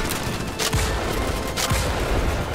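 Emancipator weapon firing in the Starship Troopers Extermination video game, a dense sustained barrage of loud gunfire with a couple of heavier bursts standing out, no talking.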